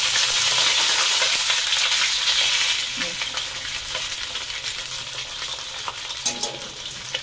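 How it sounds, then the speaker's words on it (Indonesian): Fish frying in hot oil with ginger in a home kitchen, a loud dense sizzle that eases after a few seconds, broken by occasional scraping stirs in the pan, with one brief spoken word. "Goreng sampai kering ya."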